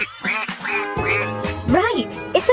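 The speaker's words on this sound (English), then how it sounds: "It says quack quack." A cartoonish duck quacking in a kids' animal-learning game with a wooden truck, several bright, nasal quacks in quick succession, close and clear.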